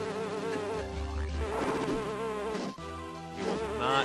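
Bees buzz in The Hobbit game for Game Boy Advance (2003), a loud, wavering insect drone layered over tonal game sounds, continuous throughout with no talking.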